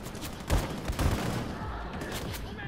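Rapid gunfire bursts from the Wolfenstein II: The New Colossus video game, several loud cracks in quick succession rolling into continuous blasting, with no talk over it.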